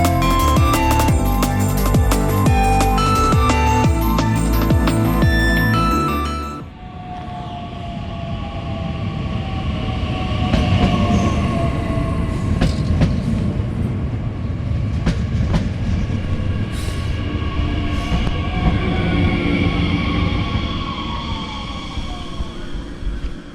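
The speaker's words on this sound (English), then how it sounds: "here we can see our train arriving. Our train today is another Talent 2" A recently refurbished Talent 2 regional train on the RB from Oranienburg to Potsdam pulls into a platform, a loud rumbling roar with rail squeal and clicking wheels that stays strong and steady before easing off near the end, following a brief burst of music.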